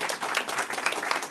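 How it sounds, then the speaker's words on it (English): Brief round of applause from an audience closing an industry panel discussion on surviving an unstable market, a dense, even spatter of clapping hands with no voices over it. "let's give a big round of applause"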